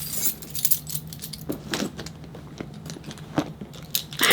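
A bunch of house keys and car keys jangles in bright, uneven metallic bursts, several short clinks and rattles close by, with no speech.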